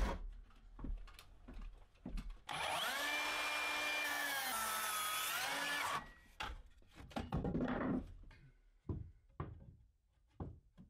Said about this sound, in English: it was back over to the miter saw to cut everything down to its final length.